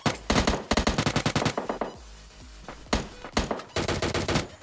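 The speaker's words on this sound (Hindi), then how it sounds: "तो इसको एक कैम की सारी गोलियां इसके हेड पे भर देता हूँ।" Automatic rifle fire in the mobile shooter PUBG Mobile Lite, M416 and AKM sprays: loud rapid bursts, a long burst, a pause of quieter sound, then further dense bursts close up, with no talk.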